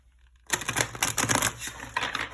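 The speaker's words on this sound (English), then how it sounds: "So let me show you the shuffle here." After a brief quiet moment, an oracle deck is riffle-shuffled close by, a rapid flurry of crisp fluttering clicks lasting about two seconds.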